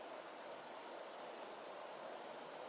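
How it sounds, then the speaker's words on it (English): A Naviforce NF9133 watch gives three short, high electronic countdown beeps about a second apart over a quiet background hiss. "it will utter beep sound 3 times per second in the following 10 seconds."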